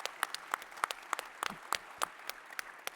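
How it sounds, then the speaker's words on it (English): At a commercial drone industry conference keynote panel, the audience claps for industry partners: sparse, distinct hand claps at a moderate distance, scattered rather than a full ovation. "Let's give them a round of applause, okay?"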